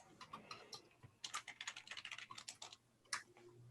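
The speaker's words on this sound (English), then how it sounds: "I'm just typing up the list so that I have it." Computer keyboard typing, quick irregular bursts of soft key clicks with a short pause midway, close but quiet, with no talking.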